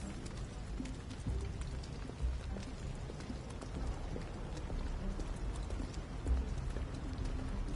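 Steady rain in the video game Detroit: Become Human, a dense continuous patter of drops at an even level throughout, with no voices.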